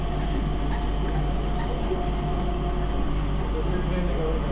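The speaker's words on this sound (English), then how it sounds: "Blocked by a train." Airport train passing at Singapore Changi Airport, a steady low rumble and hum of the rail car mixed with indoor terminal ambience, continuous and fairly loud throughout.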